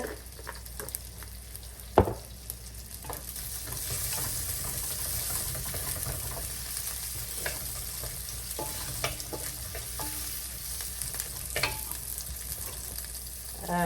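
Garlic, green chili, fennel and mustard seeds fry in hot oil for a Sri Lankan dried-fish curry, giving a steady sizzle with occasional stirring clinks and a sharp knock near the start.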